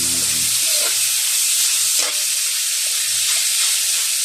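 Chopped bottle gourd (upo) sautéed in a pan gives a steady, loud sizzling hiss throughout, with a few soft stirring knocks and scrapes close by.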